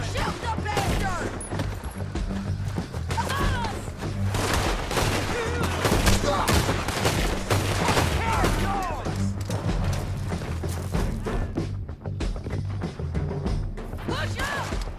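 Dense gunfire fills a Red Dead Redemption 2 shootout, with rapid overlapping rifle and pistol shots and crashes cracking continuously at close range, while in-game characters shout over the battle.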